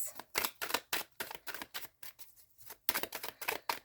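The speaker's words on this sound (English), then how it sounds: "I like to give them a really good shuffle." New tarot cards being shuffled hard in quick riffling bursts, about a dozen crisp rapid flurries with brief pauses, close and fairly quiet, with no talk.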